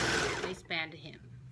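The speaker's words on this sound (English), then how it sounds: "serging our straight line. I gotta turn my serger over so that it'll cut it off for me" A serger overlock sewing machine whirs briefly as it stitches and trims a straight seam on fabric, a short motor burst following a voice talking just before.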